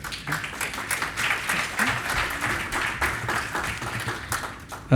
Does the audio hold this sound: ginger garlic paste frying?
no